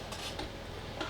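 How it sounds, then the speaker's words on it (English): Fig preserves being stirred in a pot on the stove over medium to low heat, with a steady soft scraping and occasional light clinks of the utensil against the pot, close and fairly quiet. "we just gotta continue stirring it on medium to low heat for about 20 minutes"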